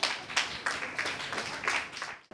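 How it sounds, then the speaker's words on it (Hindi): A group claps for students at a patriotic song program, with uneven bursts of hand claps that swell and fade in waves before stopping abruptly near the end. "तालियां हो जाए इन सब के लिए।"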